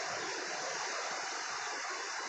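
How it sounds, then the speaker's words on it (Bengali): Sea waves at Cox's Bazar beach make a steady, broad wash of surf, a soft continuous roar with no voices over it. "ওই যে আরেকটা ঢেউ আসতেছে"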